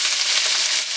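Garlic and ginger paste frying in a pan, a steady bright sizzle that holds at an even, close level throughout.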